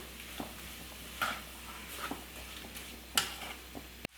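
Mixed vegetable kurma being stirred in a pan gives a quiet, low sizzle with several soft scraping strokes of a spoon and a sharper knock near the end.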